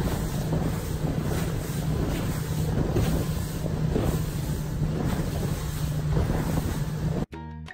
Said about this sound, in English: This is what a professional racing sailboat looks like.